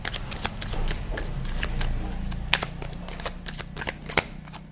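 Oracle cards from a Prism Oracle deck are shuffled and handled, giving a run of crisp, close riffling flicks and sharp snaps over a low steady hum, with no talk.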